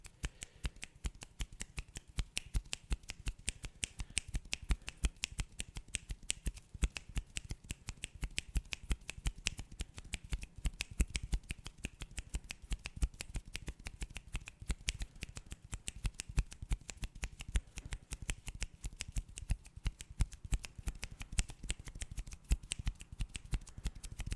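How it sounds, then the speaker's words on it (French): Rapid, dense run of sharp finger snaps, close and crisp, repeating continuously in an even rhythm with no talking. "je vais faire des claquements de doigts"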